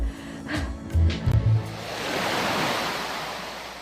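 Strong wind roars in a broad, steady rush at seaside cliffs alongside crashing surf, preceded by a few brief low thumps and buffets against the microphone.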